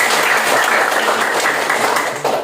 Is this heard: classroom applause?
yes